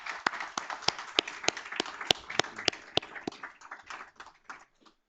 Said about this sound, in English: Please join me in applauding our Board of Trustees for the extraordinary work